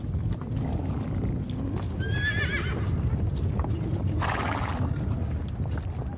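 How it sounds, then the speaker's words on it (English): Icelandic horses roaming free in a wild landscape of rivers, gorges and glaciers give a clear whinny partway through, over steady hoof clip-clopping and constant outdoor background noise. "For 3 months now, the horses can lead a life of freedom, constrained only by rivers, gorges, rocky cliffs,"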